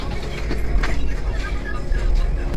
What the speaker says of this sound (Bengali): তো আমাদের ট্রেন ছেড়ে দিয়েছে,